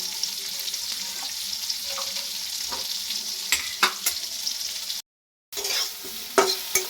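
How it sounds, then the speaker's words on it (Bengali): Lentil dal being stirred in a pot after salt goes in, a spoon scraping and clacking in short irregular strokes over a soft steady hiss, close and moderately loud with a brief dropout near the end. "লবণটা দিয়ে নাড়িয়ে নেবো"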